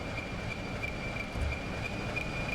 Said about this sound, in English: This is such a heavy train.